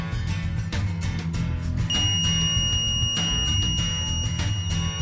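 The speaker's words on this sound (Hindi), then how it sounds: "जब एलडीआर पर लेजर नहीं पड़ती तो इसका बजर बजने लगता" A homemade laser security alarm's buzzer sounds loud and close, a harsh electronic tone pulsing in rapid repeated bursts with a steady high whine running through, and no voices present.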